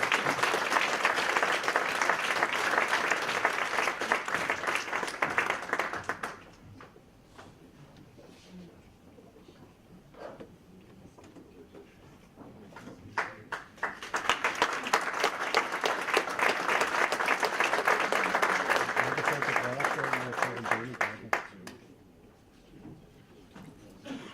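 Audience at a young talents watchmaking competition breaks into applause for the winner, with two loud bursts of clapping separated by a quieter lull holding scattered claps and murmurs.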